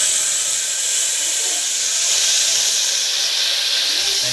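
A tempering of spices hits hot oil while cooking, giving a steady, loud, even hiss that carries unbroken throughout with no talk.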